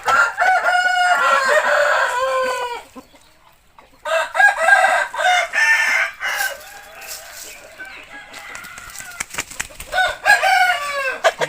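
Chickens and a rooster kept outdoors in a natural setting at early morning light, with repeated loud crowing and clucking in bursts, a brief lull partway through, then more overlapping crowing and clucks close by.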